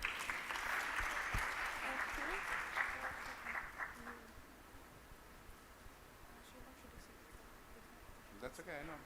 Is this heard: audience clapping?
yes